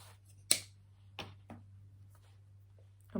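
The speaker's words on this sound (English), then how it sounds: "We're going to cut a little bit more string" Macrame string being snipped with scissors, a crisp close cut followed by a couple of softer snips and light handling in a quiet room.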